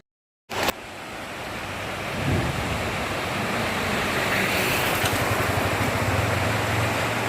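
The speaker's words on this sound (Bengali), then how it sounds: "বড় বড় পাথর তার মাঝখান দিয়ে ঝর্ণা যাচ্ছে" A rushing stream pours between big boulders at Rocky Island, a broad, steady roar of water that starts abruptly and stays loud and continuous, with wind buffeting the microphone.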